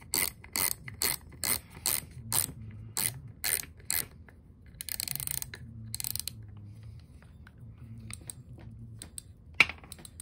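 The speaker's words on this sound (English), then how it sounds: "Okay, you can hear it click." Drag knob on a Pinnacle BL60 fishing reel being turned during servicing, giving a run of crisp, close ratcheting clicks in quick regular bursts, then sparser clicks with short pauses.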